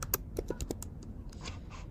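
Light typing on a computer keyboard, a few separate close key taps at first, then softer clicking for the rest of the stretch, with no talk.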